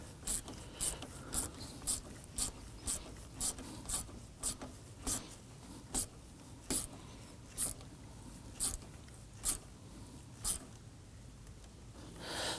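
A hand ratchet snugging down a radiator bolt on a 2015-2024 Nissan Murano 3.5L V6: a steady series of about twenty sharp clicks, evenly spaced and close, slowing slightly toward the end, with no talking.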